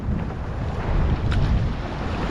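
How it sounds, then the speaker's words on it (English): Small sea waves washing right in front of someone at the shore, a steady broadband wash mixed with wind buffeting the microphone, continuous and fairly loud with no talk. "They're small waves."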